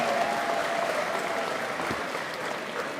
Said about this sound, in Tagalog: I think these two warriors deserve a round of applause from this small Lano crowd